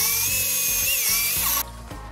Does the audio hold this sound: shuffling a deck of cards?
no